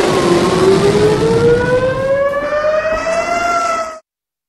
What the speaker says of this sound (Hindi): ईरान की तरफ से मिसाइलों की बौछार के बाद इसराइल में सायरन बजने लगे